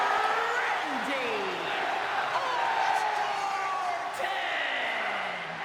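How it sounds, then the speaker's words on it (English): A large arena crowd in the WWE 2K26 wrestling video game chants and sings along to Randy Orton's entrance theme, a steady dense roar of voices with rising and falling sung lines and the occasional whoop. "With the crowd singing along to the great theme tune that is Randy Orton"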